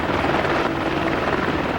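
A U.S. Army AH-64A Apache attack helicopter drones loudly and steadily, its rotor producing a dense, continuous thrumming roar close by.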